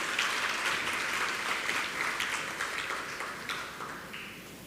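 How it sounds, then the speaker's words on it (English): A primary school graduation audience applauds the principal with a full round of clapping, strongest at the start and gradually thinning and quieting toward the end. "Please give our principal a rousing round of applause."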